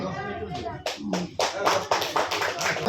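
Audience applause at the All Bengal Theatre Festival, a few scattered claps that swell into fuller clapping over a few seconds, close and uneven, with people speaking alongside.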